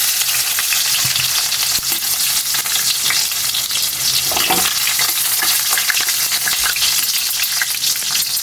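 Garlic frying in hot cooking oil in a pan for a pork dish, a loud, steady sizzle and crackle running continuously and close up, with no talk.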